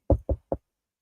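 Three quick knocks on a table inside a Winnebago Travato camper van, close and dry, with the last one softer, then silence.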